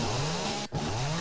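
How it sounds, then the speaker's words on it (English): A chainsaw in the video game 7 Days to Die cuts wood with a loud, continuous buzzing drone, broken by a brief dip before revving on. "Why do I hear a chainsaw? I'm cutting up some wood."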